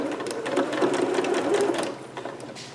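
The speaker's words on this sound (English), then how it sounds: "So stitching and then back stitching." A sewing machine stitches forward and then back-stitches a garment, a close rapid mechanical whir with a short pause before it fades out, with no talking.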